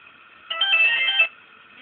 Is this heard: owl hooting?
no